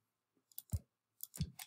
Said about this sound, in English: I was left clicking instead of right clicking.